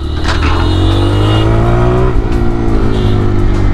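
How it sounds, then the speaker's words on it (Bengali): A TVS Raider 125 motorcycle engine revs and pulls under acceleration, loud and close, its drone rising steadily in pitch with no talking. "বাইকটা অ্যাক্সিলারেশন নেয় খুব সুন্দর,"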